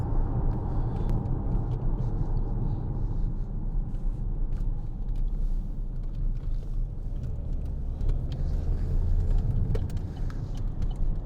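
A 2014 Vauxhall Insignia 2.0 CDTi SRi diesel accelerating on the road, heard from inside the cabin as a steady low engine and road rumble that builds slightly, with no talk.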